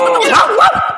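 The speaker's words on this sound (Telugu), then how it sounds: "ఈ అమ్మ కుక్క మళ్ళీ వచ్చింది." A dog lets out a short, sharp bark with a whining, yelping quality, close and loud, in a single quick burst lasting under a second.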